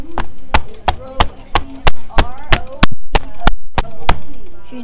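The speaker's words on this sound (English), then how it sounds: "it was me hitting a door" A door struck repeatedly, about a dozen sharp broadband knocks in a steady rhythm, close and loud, with a voice talking between the hits.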